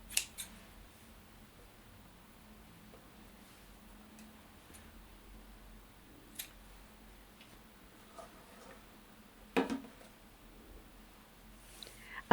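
Scissors snip through lengths of fabric stay tape for a sewing project, a few sparse, quiet cuts spaced over several seconds in a calm room, each a short crisp blade closure.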